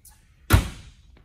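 A single dull thunk as the friction-hinged entry door of a 2021 Palomino SS 1500 truck camper swings, one short solid impact followed by a brief fading rattle.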